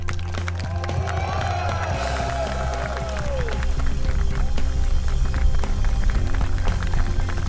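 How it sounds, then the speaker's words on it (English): Audience applause and cheering at an airsoft battle event, Operation Irene VII, a broad dense wash of clapping and shouts that swells and holds steady throughout. "I'd like all of us to give them a hand and a cheer"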